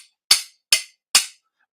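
Knife blade banged against a 12-inch sharpening steel, three sharp metallic clacks about half a second apart, each decaying quickly, close and loud with silence between.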